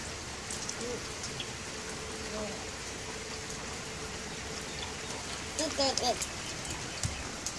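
Rain keeps up a steady, even hiss outdoors, close and continuous, as a person's voice and brief child sounds come through over it.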